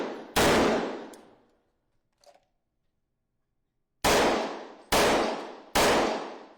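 Staged gunshots fired inside a school building during active shooter training for teachers: one sharp blast, a brief faint clatter, then three more loud cracks in quick succession, each ringing out with a decaying echo down the halls.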